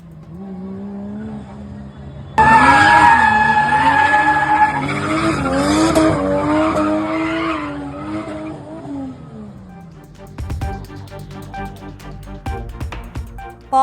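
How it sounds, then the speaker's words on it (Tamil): Formula 4 race cars skid through a race in Chennai, a sudden loud burst of screeching tyres and high engine whine that sustains for several seconds, then fades into quieter crowd and track noise. "சென்னையில் ஃபார்முலா 4 கார் பந்தயத்தில் கண்கவர் சாகசங்கள்."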